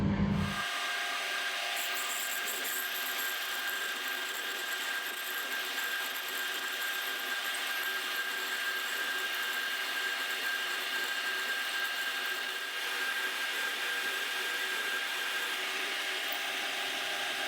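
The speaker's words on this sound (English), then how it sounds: "I'm going to send this drill down about 28mm deep." A steady high-pitched whir of a 10mm drill boring about 28mm deep runs continuously for the whole stretch, loud and close.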